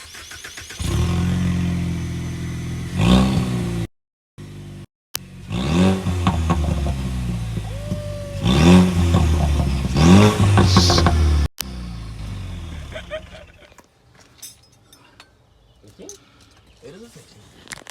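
A 2019 Ford Mustang EcoBoost with its exhaust removed starts and revs in a garage. Several loud, raw rising engine blips come close by with brief gaps between them, then it settles to a rough idle while people talk over it.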